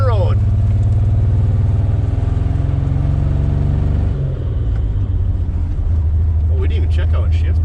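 A 1961 Chevrolet Impala hardtop, a junkyard car abandoned for 28 years, drives on an open road in the cold with a steady loud engine rumble and drone. The engine note shifts partway through, and faint voices sit under the noise.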